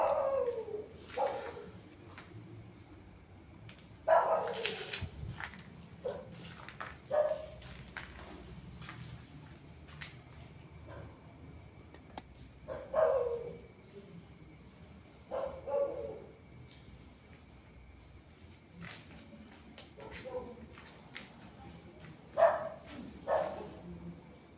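A dog barks repeatedly at a distance near an abandoned chapel, in short irregular bursts, over a faint steady hum.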